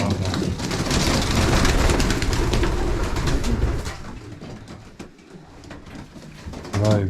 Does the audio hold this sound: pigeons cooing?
yes